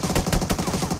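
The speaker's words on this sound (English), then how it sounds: "He's still shooting at me." Rapid automatic gunfire in a battle royale shooter game, a dense rattling burst of shots fired close and loud without a break for about a second, no talking over it.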